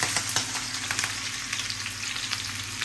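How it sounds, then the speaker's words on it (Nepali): Onions fry lightly over low heat in a pan for pork sekuwa, a steady close sizzle broken by quick taps and scrapes from stirring. "त्यो चाहिँ मैले प्याज हल्का भुटेको"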